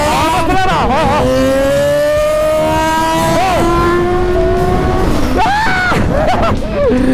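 Yamaha XJ6 motorcycles pulling away on a street under hard acceleration, loud and close, engine pitch climbing through several gear changes with shouted voices over the roar.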